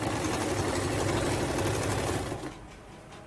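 A sewing machine stitches the side seam of a kurti, running as a steady, close, even whir for about two and a half seconds before stopping abruptly, with no talk over it.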